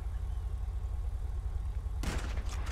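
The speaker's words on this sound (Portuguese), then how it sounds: "Dá um tiro antes, dá um tiro antes, vai." A single gunshot is fired to start a race in Grand Theft Auto V, a sudden loud crack with a brief tail that cuts in over a steady low rumble of idling car engines.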